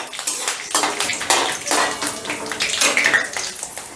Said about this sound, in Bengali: ফোড়নটা একটু নাড়াচাড়া করে নেব।